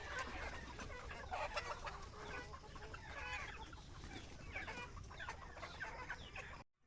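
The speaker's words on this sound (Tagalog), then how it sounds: "Ganyan nga ang mga manok kapag hapon, sobrang iingay nila habang naghahaponan." A flock of gamefarm chickens clucks and squawks noisily in the evening, many birds calling over each other, steady and busy until it cuts off abruptly.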